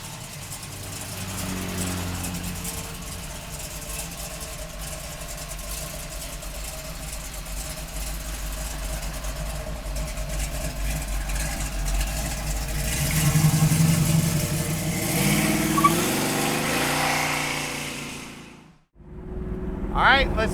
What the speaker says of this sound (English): let's take this 67 Camaro for a ride. Got 502 power up front